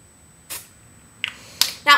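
A can of dry shampoo aerosol sprays in several short hissing bursts held close to a hand, each a sharp sudden puff separated by brief quiet gaps.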